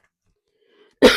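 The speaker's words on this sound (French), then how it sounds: "Bon, je tousse encore un peu, je vais mieux, mais je tousse encore un peu" A woman coughs once near the end, a sudden loud burst after near silence with only faint background sounds before it.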